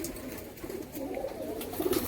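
Home-kept flying pigeons coo in low, throaty, repeated phrases close at hand, swelling slightly toward the end with no voices over them.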